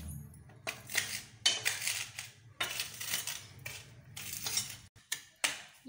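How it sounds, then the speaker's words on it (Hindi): Flour dry-roasting over a low flame in a pan for sethora laddu, stirred in repeated scraping bursts of utensil against metal with short pauses between strokes, fairly close and moderate in level, no talking. "उधर हमारा आटा भून रहा है।"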